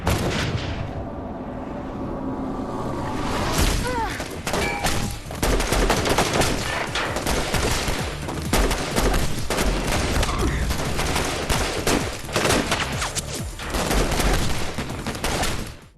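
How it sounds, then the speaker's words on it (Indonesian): Rifle gunfire in an action film scene, with dense bursts of repeated shots and booms over a tense score, loud and continuous with brief sharper cracks throughout. "melepaskan tembakan menggunakan senapan"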